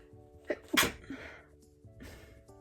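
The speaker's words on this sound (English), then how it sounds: "That was a sneeze of sorrow." A single sharp sneeze close by, a quick inhale leading into a loud burst, followed by a quieter breathy exhale over a faint steady hum.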